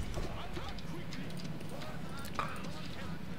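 Horse archers galloping across a battlefield in Rome: Total War, a steady bed of hoofbeats and battle din running under continuous talk.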